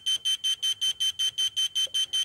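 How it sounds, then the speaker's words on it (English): A model railway point controller sounds its alarm, a loud, rapid series of identical high electronic beeps repeating evenly with short gaps, heard alone. "If something gets in the way, the system will alarm and tell you."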